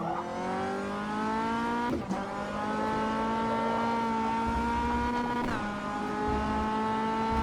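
An MCR 2000 race car accelerates hard with power oversteer, a loud steady engine drone climbing slowly in pitch and broken by two sharp gear-change dips.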